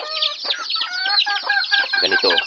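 Domestic chickens, including an ordinary hen, cluck and chatter close by in a continuous, busy run of short calls with no talking.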